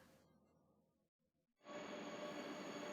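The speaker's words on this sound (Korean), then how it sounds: "서울역을 출발한 KTX 열차가 강릉역으로 들어옵니다." A KTX high-speed train from Seoul pulls into Gangneung Station, with a low rolling rumble that fades to near quiet before a loud, steady broadband rush of the train takes over and holds.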